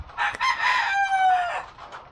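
A large gray chicken gives a drawn-out, wavering call close by, ending with a falling note.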